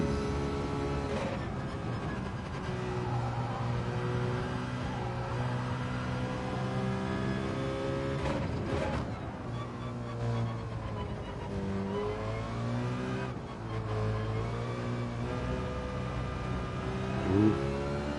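A Peugeot car in a racing video game revs and accelerates through gear changes, a steady mid-pitched engine drone rising and falling in pitch with brief shift dips, continuous and prominent throughout.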